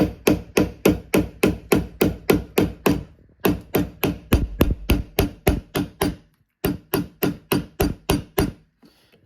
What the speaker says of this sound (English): So I'm going to use a hammer like this and start to dish it down.